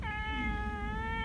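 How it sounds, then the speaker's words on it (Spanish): A cat lets out one drawn-out, clear meow with a slight falling pitch, heard close and alone over a low background hum in an old palace building that once served as a prison in Mexico. "viene el gatito, viene el gatito, viene el gatito"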